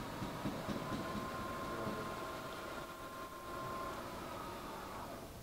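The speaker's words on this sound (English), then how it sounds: "We're running the spindle." A Sharp TMV-1 CNC vertical mill with a 5 HP spindle runs in its low speed range, making a steady, continuous whir with a sustained tonal hum at moderate level and no talking.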